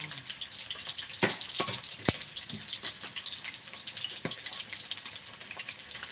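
Batter-dipped food fries in hot oil, a soft continuous crackle and hiss broken by several sharp pops and splatters, fairly quiet and close with no talking.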